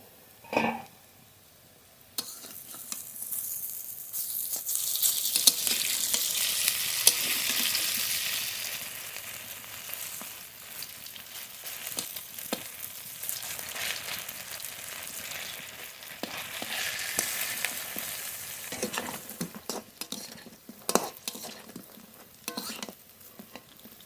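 Taro fritters fry in a little oil in a pan, a soft steady sizzle that swells and fades over time, with scattered light clicks and scrapes of utensils and lid.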